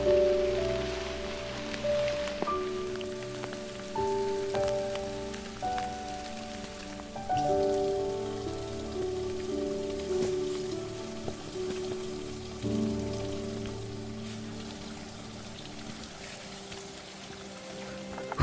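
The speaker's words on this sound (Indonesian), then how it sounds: "Cuacanya hujan teman-teman" Steady rain pattering on a red-earth hiking trail up Mount Cikuray via Cintanagara, a soft continuous hiss with faint low rumbles and occasional thuds, no talking.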